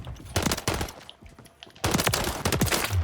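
Rapid bursts of automatic gunfire from the Modern Warfare 3 video game, loud and close, split by a short lull and then a second sustained volley with no talk.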